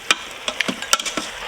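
An Instant Pot of lamb pilaf with rice is stirred, giving a short string of close, light scraping and clicking strokes against the pot.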